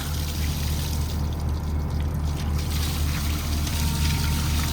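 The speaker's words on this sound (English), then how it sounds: "and let all the water out of it." Water drains out of the AC unit of a Kubota SVL75-2 after two 12mm bolts are removed, a continuous splashing pour that stays close and steady with no talk over it.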